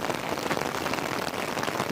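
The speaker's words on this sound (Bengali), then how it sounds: "মুসলধারায় বৃষ্টি নেমেছে" Dense, steady torrential midday rain pours down without letup by a riverbank, a thick continuous wash of drops drumming on surfaces close by.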